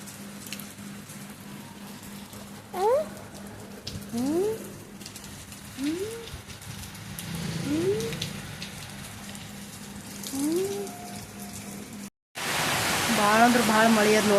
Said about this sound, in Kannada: ಭಾಳ ಅಂದ್ರೆ ಭಾಳ ಮಳೆ ಅದ ನೋಡ್ರಿ. ಆಗ ಜಬರ್ದಸ್ತ್ ಮಳೆ ಅದ ನೋಡ್ರಿ. ಆಗ ಗಾಳಿ ಮಳೆ ನೋಡ್ರಿ ಇಲ್ಲಿ